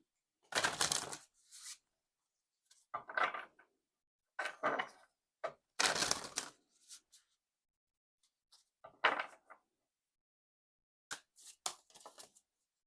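Oracle cards shuffled by hand in short separate bursts of riffling and flicking, close and crisp, with silent pauses between each handful.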